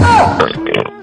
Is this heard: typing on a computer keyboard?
no